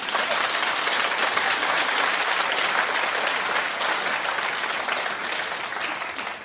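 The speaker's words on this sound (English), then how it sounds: "Clap if you think that looks just dead wrong." A talk-show studio audience breaks into sustained, dense clapping, loud and even for several seconds before gradually thinning toward the end, with no voice over it.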